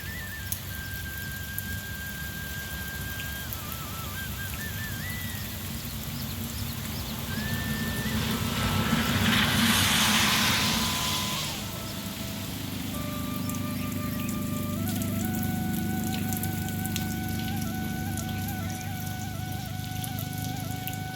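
Steady rain patters continuously on surfaces, with thin whistling tones drifting in and out and a brief heavier burst midway.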